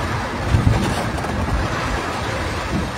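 Muddy floodwater rushing down from a mountain after heavy rain, carrying large rocks, makes a steady broadband roar that holds at the same level throughout with no talk over it.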